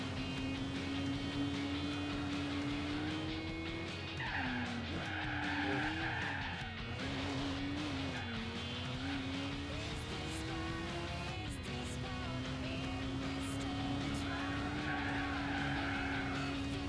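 Race car skidding in Gran Turismo 4, a long tire squeal over a steady droning engine tone that wavers as the car slides, lasting the full seventeen seconds with repeated screeching bursts.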